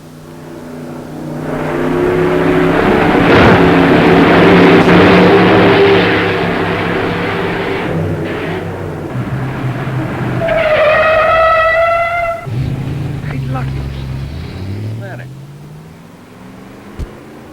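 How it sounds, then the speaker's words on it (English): An old jalopy car is driven hard over bumps, its engine roaring loud and close with rising revs and a squealing tone, voices talking briefly over the noise. "Joe, take that jalopy there and run it over the bumps"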